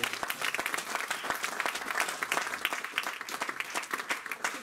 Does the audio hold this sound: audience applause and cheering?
yes